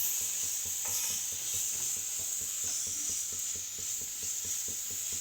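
Chicken masala, red chilli powder and coriander powder are stirred in a hot pan, with a steady sizzle and a soft, regular scraping of the spoon all the way through.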